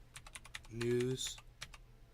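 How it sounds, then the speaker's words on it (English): Someone types an email on a computer keyboard, giving a quick run of close, crisp key clicks, with a brief tonal hum in the middle. "I'm typing an email."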